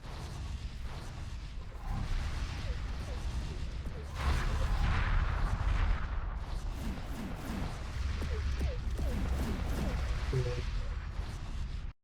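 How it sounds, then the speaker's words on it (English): Large turrets firing on fighter craft in the space game X4 Foundations, a dense, continuous barrage of booming shots and crashing impacts that surges louder midway, with a voice talking faintly underneath. "I'm seeing large turrets shooting at these guys"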